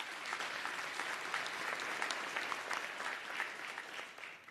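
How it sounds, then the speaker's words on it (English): Steady, dense applause from a summit audience at a youth tourism innovation event, with many hands clapping together at an even level for several seconds before easing slightly at the end. "Let's give them a round of applause"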